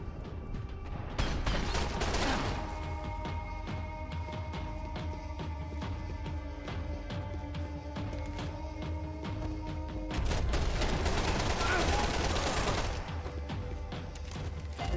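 Video game gunfire in a Marvel Rivals and Max Payne 3 session, dense bursts of shots clustering around two and eleven seconds amid steady game noise, with no talk over it.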